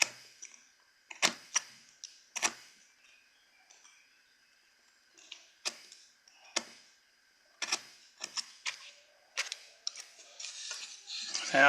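Stop cuts made with a fishtail gouge while wood carving a caricature figure, heard as sharp, separate knife-like taps and scrapes, quiet between strokes, with a denser run of cuts near the end.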